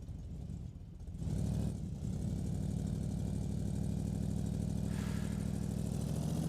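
Loud engine of a redneck project car in BeamNG, droning steadily at idle with a rough low rumble, a brief rev swell near the start, then a constant even hum with no talk.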